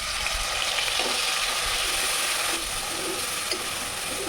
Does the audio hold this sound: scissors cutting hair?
no